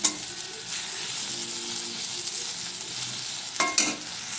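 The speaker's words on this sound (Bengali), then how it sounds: "এবার আমি গ্যাসের ফ্লেমটা জোরে করে দেবো, করে ভাজা ভাজা করে নামিয়ে দেবো।" Brinjal sizzles steadily in hot oil over a high gas flame, a continuous close hiss, with a couple of sharp scraping stirs of the spatula near the end.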